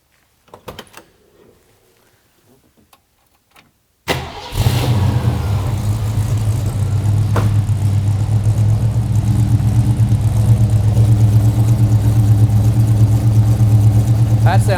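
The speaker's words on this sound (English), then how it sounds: "I thought I'd start it up and let you hear the exhaust note." A 1967 Ford Mustang Fastback restomod's V8 fires up after a few faint clicks, then settles into a deep, loud, steady rumbling idle with a throaty exhaust burble.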